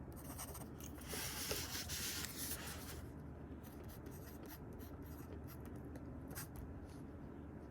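A freshly fixed fountain pen nib writes on paper in downstrokes, upstrokes and side strokes, making a quiet, close scratchy rub with a brighter burst of scraping early on, then softer strokes.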